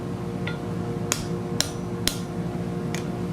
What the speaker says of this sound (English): We're just going to have to open it up a little bit more with the punch first.